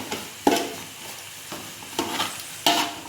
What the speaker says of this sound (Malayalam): എണ്ണ ചൂടായപ്പോൾ നമ്മളതിൽ ഉള്ളി ഇട്ട് പൊരിക്കുകയാണ്